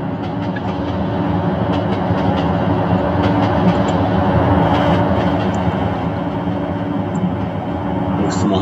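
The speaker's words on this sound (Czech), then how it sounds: "Vážení cestující, příměstský vlak přijíždí." A suburban train arrives in the Trainz 2012 railway simulator game, a loud, steady rumble with a faint rattle that holds unbroken from start to finish.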